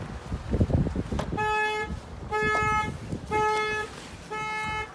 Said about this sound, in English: It does have the alarm system.